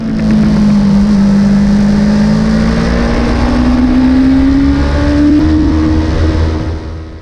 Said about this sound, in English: obviously a lot of bikes out all together, so quite a big group in front of me